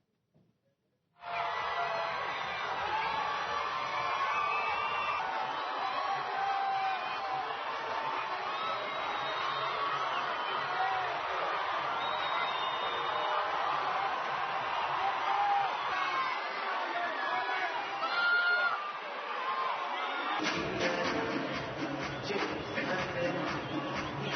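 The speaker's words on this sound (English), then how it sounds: "The Boks walked out to loud cheers earlier on today." Large crowd cheering and shouting nonstop at a homecoming welcome for the Springboks rugby team as they walk out, a dense roar that swells briefly near the end.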